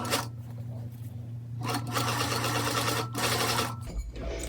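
A sewing machine stitches a T-shirt band along the seam line in close, steady whirring runs, pausing briefly between bursts of stitching.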